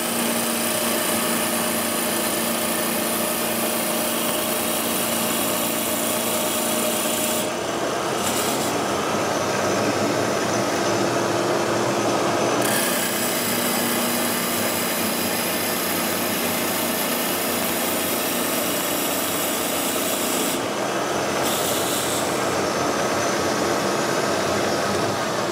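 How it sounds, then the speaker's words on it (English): Wood lathe with a 1.5 horsepower motor cutting, a loud continuous whine and roar heard close that dips and shifts in pitch as it bogs under the cut, with brief breaks in the high hiss. "If you can hear the lathe slow down on that cut."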